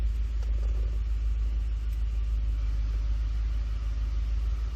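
Ford Explorer 4.6L 3V engine idling rough with a cold misfire, a steady low rumble with an uneven pulsing beat, close and continuous, no voices.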